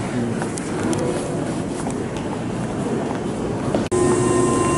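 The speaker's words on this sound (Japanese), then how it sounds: "特急列車でこれから大阪梅田に向かいたいと思います。" A Hankyu Railway limited express train bound for Osaka-Umeda, heard as a steady broadband rumble and rush of a moving train that continues throughout, with a brief dip near the end.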